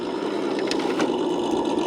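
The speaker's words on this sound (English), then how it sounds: "Drag brake action right there. Motor slowing me down." A Ford Bronco engine braking on a steep downhill drop of a backyard trail course, giving a steady mid-pitched engine drone under faint mechanical clatter, with no voices.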